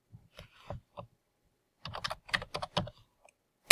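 Bursts of computer keyboard typing entering a layer name, a few isolated keystrokes followed after a pause by a quicker run of clicks, close and clear with no voices.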